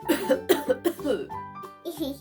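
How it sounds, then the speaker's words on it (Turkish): A child coughs several times in quick bursts, close by, followed by a brief throat-clearing cough. "Bak bana sarıldın da öksürdüm."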